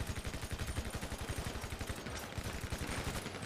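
Rapid automatic gunfire in a video game, a fast, even stream of shots that is fairly faint and distant, continuing for several seconds with a short lull partway through.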